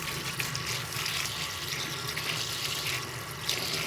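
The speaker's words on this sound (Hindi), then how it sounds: "अब इसके ऊपर मैं डालूँगी टैप वाटर, ठंडा पानी" Cold tap water pours steadily over cooked macaroni in a kitchen strainer, a close, continuous splashing hiss with no speech.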